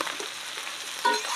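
Katla fish oil and potatoes fry in a pan while being stirred, a steady close sizzle with soft scraping pulses and no talking.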